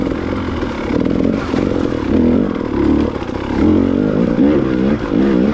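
A motorcycle engine runs under a rider on a spring trail, loud and close, its pitch rising and falling as the throttle opens and eases off over uneven ground, with no talk.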